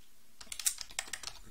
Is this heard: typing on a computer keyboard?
yes